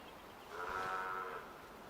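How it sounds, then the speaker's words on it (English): A single sheep bleat from a video game, a medium-loud call lasting about a second, alone with no talk over it. "Big orange sheep."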